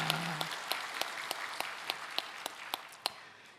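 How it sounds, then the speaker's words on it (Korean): A church congregation at a Sunday worship service claps together in a steady, rhythmic beat, each even clap standing out over a soft wash of background applause. "성령님 역사하실 것을 믿고 선제 박수를 드리겠습니다."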